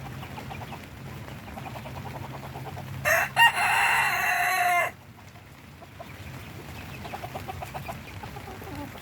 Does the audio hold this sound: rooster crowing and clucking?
yes